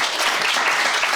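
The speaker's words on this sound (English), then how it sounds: "let's give Sean Clark a round of applause one more time" A live audience gives Sean Clark a round of applause, a dense, even wash of clapping from many hands that continues unbroken without any voices.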